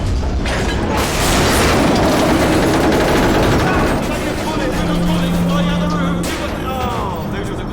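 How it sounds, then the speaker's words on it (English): Crab turrets in Portal 2 fire a dense, continuous barrage of booming, rattling shots that fills the whole stretch, with a brief steady mechanical tone partway through. "Those were the crab turrets, weren't they?"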